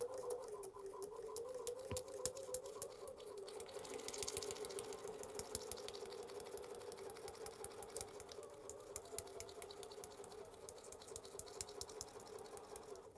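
A sewing machine runs a steady, fast patter as it stitches a foundation paper-pieced quilt block with pins left in, quiet and continuous with no talking.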